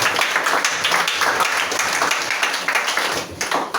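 A church congregation applauding Jesus, a steady wash of many hands clapping together with crowd voices, fairly loud and continuous, fading slightly at the end.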